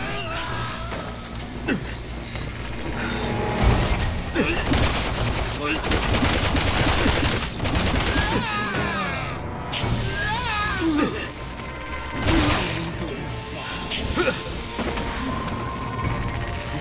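Incoming enemy gunfire in Resident Evil 6 rattles in dense, overlapping bursts and single cracks over a busy game soundtrack, with voices talking throughout.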